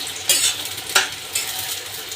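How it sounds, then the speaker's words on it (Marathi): Chopped onion hits hot oil in a pan for a chicken biryani, a bright sizzle that flares loudly on contact and again as it is stirred, then settles into steady close frying with a spoon scraping the pan. "कांदा टाकूया त्यामध्ये।"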